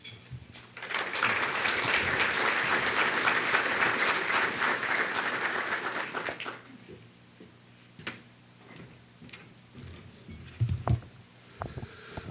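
An audience at an energy summit in Wilmington applauds to welcome a speaker, steady full clapping for about six seconds that then stops, followed by scattered small knocks and room rustle.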